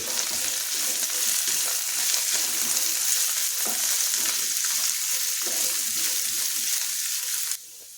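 Chopped vegetables for spicy masala Maggi noodles fry in a pan with a steady, close hissing sizzle and faint stirring scrapes, the sound stopping abruptly near the end.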